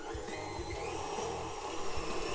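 A stand mixer running as it mixes lemon cream cheese shortbread cookie dough, a quiet, steady motor whir with a faint periodic low thump as the beater turns, alone without talk.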